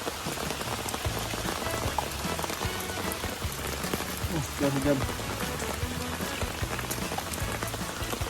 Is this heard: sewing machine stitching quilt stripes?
no